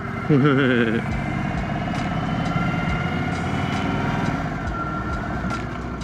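An Indian Sport Chief motorcycle engine runs steadily while being ridden, a loud, constant low rumble with a brief rising tone near the start, under wind noise and some speech.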